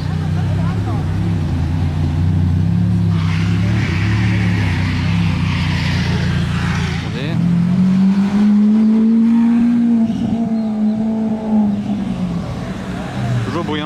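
Loud supercar engine in Monaco rumbles deep and steady nearby, then swells into a rising rev that climbs and holds before easing off, with a voice talking over it.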